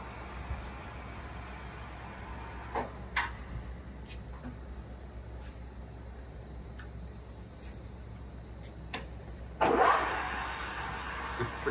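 A Microweily TY-1860 TS lathe with a 1500 mm job length, its spindle running at 325 rpm, gives a steady low mechanical hum with a few faint ticks and a brief louder burst near the end.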